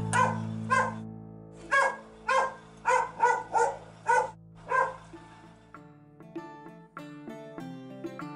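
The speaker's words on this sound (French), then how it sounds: "Il y a un chien là-bas!" A dog barks about ten times in an irregular series over a low sustained musical drone, loud and close, before a plucked melody takes over.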